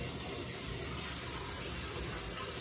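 Water drains from a pipe into a 10-litre bucket during a kitchen installation, making a steady, close, continuous gushing pour with no pauses and no voices.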